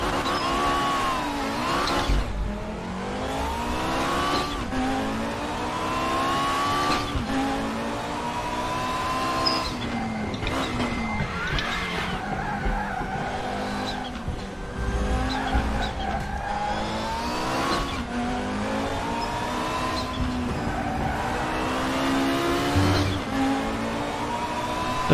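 Race cars lapping Silverstone in a racing-league video game, engines whining and shifting pitch as they brake, downshift and accelerate again, a loud continuous drone with repeated gear changes and no talk.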